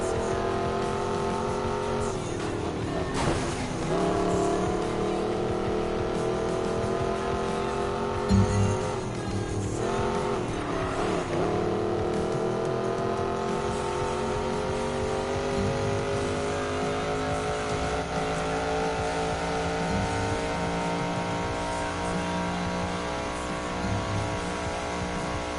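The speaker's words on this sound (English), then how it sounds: "This car also fishtails very easily." A car fishtailing in a Need for Speed racing game, its engine droning and revving continuously at close range, with brief tire squeals breaking through early on.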